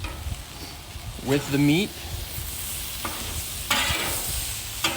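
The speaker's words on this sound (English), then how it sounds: "it's time to mix the vegetables in" Fajita vegetables and meat sizzle loudly on a Camp Chef griddle as a spatula stirs and scrapes them, with brief bursts of speech over the steady frying.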